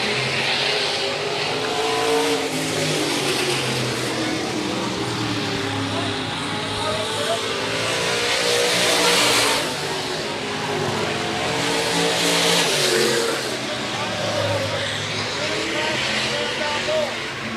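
Stock cars race at Rapid Speedway during a championship feature event, engines roaring continuously and rising and falling as cars pass side by side, with a loud announcer talking over the track noise throughout.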